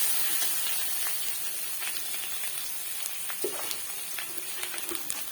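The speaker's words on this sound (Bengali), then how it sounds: "লঙ্কাটা একটু তেলের মধ্যে কেন দিলাম, তাহলে লঙ্কার গন্ধটা ঝোলের মধ্যে থাকবে না, এই জন্য তেলের মধ্যে একটু নাড়িয়ে নিতে হবে।" Green chillies sizzle in hot oil in a pan as they are stirred for a fish curry, a steady soft hiss with small scattered crackles and faint scraping taps throughout.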